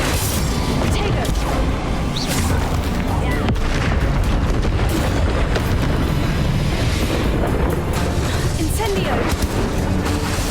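Bombarda and Confringo explosion spells in the Hogwarts Legacy video game: dense, continuous booming blasts and crackling bursts, loud throughout, with speech mixed in over the din.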